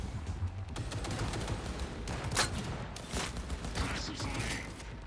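Big guns fire in Cyberpunk 2077 as a dense, rapid run of gunshots and mechanical clatter, layered and sustained across the whole stretch at moderate loudness.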